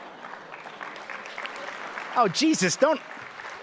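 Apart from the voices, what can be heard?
audience applause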